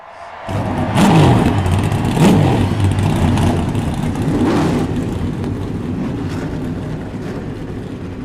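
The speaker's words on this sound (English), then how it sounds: "Drivers, start your engines." In the iRacing eNASCAR Coca-Cola Series at Atlanta Motor Speedway, race car engines fire up together, then a loud rumble rises and falls in several revving surges before settling into a steady drone.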